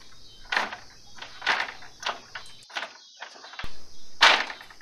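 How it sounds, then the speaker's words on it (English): Small chicken coop doors in a barn are shut for the night, making a series of soft wooden knocks and clacks spaced a second or so apart, with no talking. "And then we just close up their little doors and tuck them in for the night."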